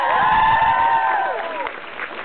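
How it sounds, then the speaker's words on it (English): A concert crowd at a show in Brussels, Belgium cheers and applauds loudly, with sustained whoops and hollers ringing over steady clapping that eases off slightly toward the end. "can we have a massive round of applause for her as well?"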